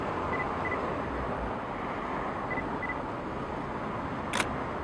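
A single brief camera shutter click sounds near the end while the world's largest fire hydrant is photographed, faint against steady outdoor background noise.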